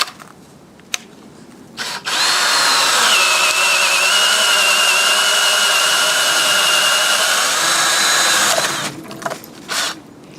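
A power drill bores a hole with a freshly sharpened 1-inch door lock bit, a steady loud whine holding for about seven seconds after brief starts, then stopping with a few short bursts at the end.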